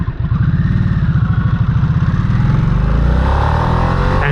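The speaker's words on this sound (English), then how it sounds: "The exhaust sounds so much better in sport mode when you're" Harley-Davidson Nightster motorcycle in sport mode, its exhaust loud and close with a rapid pulsing thrum that rises as the bike accelerates, no talking over it.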